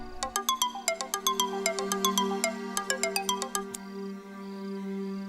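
A phone ringtone plays alone, a quick run of bright repeated electronic chime notes in a steady rhythm, then a sustained tone ringing on for a moment.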